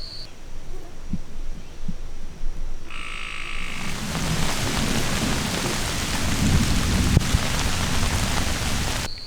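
Frogs croak at a pond in a rainstorm under heavy, steady rain that swells into a loud wash, with low thunder rumbling and a few brief tonal calls early on.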